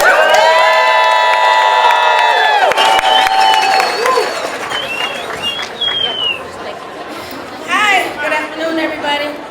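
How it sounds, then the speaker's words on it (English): Crowd at a city workers' protest rally in San Francisco cheers, whoops and applauds loudly for several seconds, a sustained wash of voices and clapping that gradually thins into scattered shouts. "Let's give a big round of applause for the courage of Rhonda."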